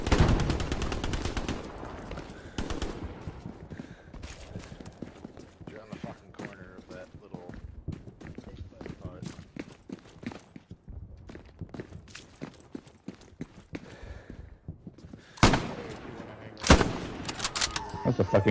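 Pump-action shotgun blasts in the World War II shooter Hell Let Loose on PS5, sharp loud reports standing out amid scattered distant gunfire, footsteps and ongoing squad voices.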